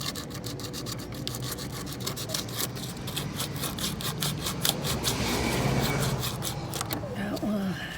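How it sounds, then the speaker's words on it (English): Sandpaper rubbing on a refrigerator compressor's copper pipe end before brazing, a steady close scratchy rasp of repeated strokes that grows slightly louder toward the end. "So just go ahead and sand it."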